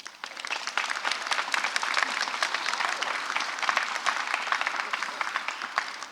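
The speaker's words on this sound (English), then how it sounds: "can you give a huge round of applause to your parents" A graduation ceremony audience applauding the graduates' parents, a dense, sustained round of clapping from a large crowd in a hall that swells quickly and holds steady for several seconds.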